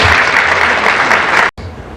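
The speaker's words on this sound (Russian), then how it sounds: "поприветствуем еще раз нашего дорогого гостя аплодисментами" Audience applause welcoming film director Luc Besson to a master class, a loud, dense wash of clapping that runs steadily for about a second and a half, cuts off abruptly, then resumes more faintly.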